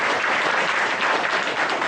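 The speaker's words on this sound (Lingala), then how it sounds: "Sous vos applaudissements." A crowd at a televised Congolese football awards segment breaks into dense, sustained applause, close and loud throughout the short burst.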